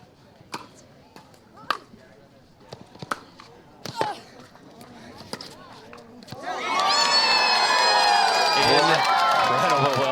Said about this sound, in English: And the crowd, decidedly pro Brascia crowd, they love that one